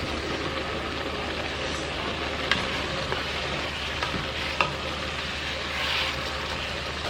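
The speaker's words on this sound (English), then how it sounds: "You're gonna wanna add the mushrooms so they can cook with the meat." Ground meat and mushrooms sizzling steadily in a pan, with a few soft scrapes and taps as the food is stirred.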